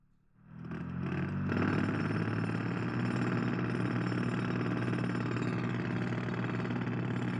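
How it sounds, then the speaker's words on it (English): A jackhammer sound effect starts up after a brief quiet moment and then pounds on in a loud, rapid, unbroken mechanical rattle. "I'm going to bring up the jackhammer"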